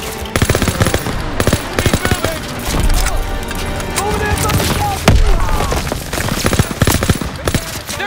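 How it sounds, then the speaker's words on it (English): Sustained machine gun fire in the Call of Duty: WWII video game, rapid loud bursts in rhythmic volleys with thuds and battle noise around them, while voices shout over the shooting. "Suppressive fire! Keep firing!"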